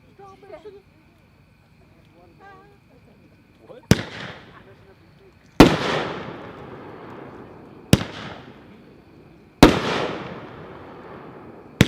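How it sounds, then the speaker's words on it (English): Pyroland Blue Raspberry firework cake fires its shots as loud, sharp booming bursts that ring and crackle away, spaced a couple of seconds apart and coming one after another, after a quiet, murmuring start. "Number 2 is Blue Raspberry. Pyroland brand, packed 4-1, 7 shots."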